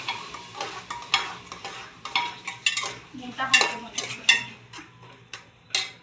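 Fish fries in a pan at home, a soft sizzle beneath a series of sharp clinks and scrapes of a utensil stirring and turning pieces, close by and irregular.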